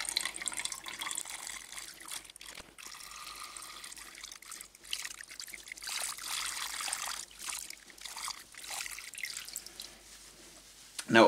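Plum wine mash squeezed through cheesecloth and a fine mesh strainer, liquid trickling and dripping unevenly throughout at a moderate level, with small splashes.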